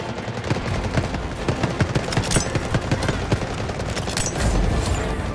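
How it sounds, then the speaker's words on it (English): An artillery barrage in the video game Delta Force sounds as a dense run of rapid, cracking bursts and thuds, close and loud, with a heavier rumble building toward the end. "Artillery barrage incoming."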